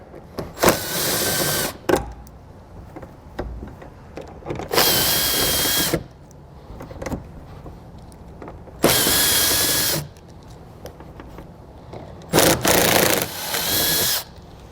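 A power drill pulls screws from the underbody of a 2021 Chrysler during a trailer hitch installation, in loud whirring bursts of one to two seconds each, separated by quieter handling noises and clicks.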